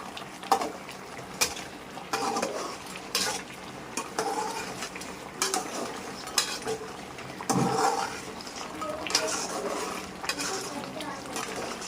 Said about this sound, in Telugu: తర్వాత ధనియాల పొడి ఒక అర స్పూను మళ్ళీ బాగా మిక్స్ చేసుకుందాం